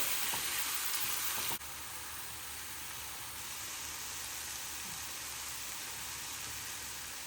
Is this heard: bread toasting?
yes